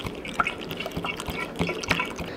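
Apple cider vinegar splashed into a chick waterer in a brooder, a short pour with a few small liquid drips and trickles, close and fairly quiet.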